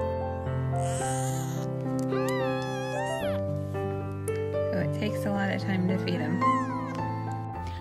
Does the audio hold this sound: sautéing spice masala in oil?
no